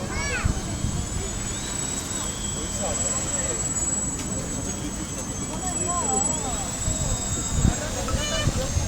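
Remote-controlled model airplane flying over a lake park, a thin steady high whine carrying faintly across the whole stretch under outdoor ambience and people talking nearby.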